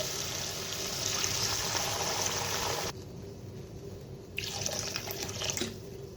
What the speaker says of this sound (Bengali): অল্প পরিমাণে জল দিয়ে দেব।